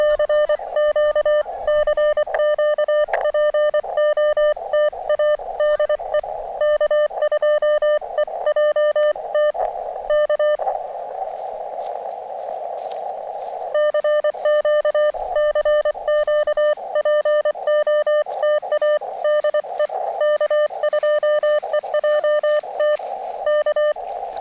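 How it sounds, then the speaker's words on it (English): Morse code keyed on amateur radio during an outdoor park activation, a long run of loud steady tone beeps in quick irregular dots and dashes, briefly interrupted by a band of noise, with no talking. "Doing Morse code."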